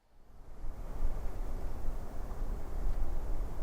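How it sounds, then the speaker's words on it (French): Crunchy, gritty wind ambience, as if blowing through tall grass, a steady broadband rush that fades in and then holds at a constant loud level with no voices. "une texture de vent plus crunchy"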